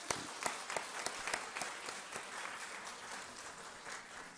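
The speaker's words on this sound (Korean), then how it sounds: "박수 한번 하십시오" A church congregation at a Sunday afternoon service claps for the choir, a brief, moderately faint burst of applause with distinct individual claps over a soft wash of sound.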